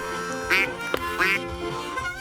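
Several nasal duck quacks sound at a moderate distance over a steady background hum during a duck hunt, spaced out with short pauses between calls.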